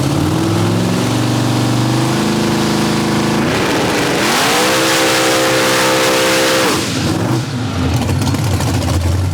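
A 3500-horsepower SMX Jeep engine idles loudly, then revs up hard in a rising, roaring surge that holds briefly before dropping back to a rough, heavy idle, all close and very loud.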